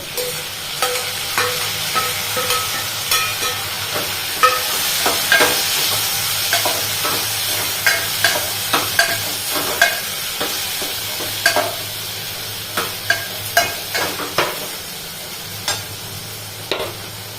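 Chopped tomatoes fry in a pan for rasam vada, with a steady sizzle under a string of sharp, close scraping clicks as a spoon stirs them.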